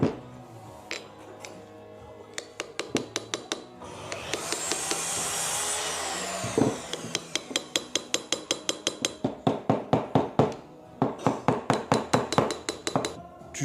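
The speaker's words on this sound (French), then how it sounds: "Après, tu redonnes un petit coup de marteau." Repeated sharp metallic hammer blows on a Normandy folding knife during a cutlery workshop, ringing strikes in quick rhythmic runs with a grinding whir midway.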